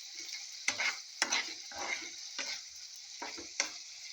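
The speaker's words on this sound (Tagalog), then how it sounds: "So ito yung nag-fried rice ako." Fried rice sizzles steadily in a pan, with about six distinct scraping stirs of a utensil breaking through the constant frying hiss, close and moderately loud.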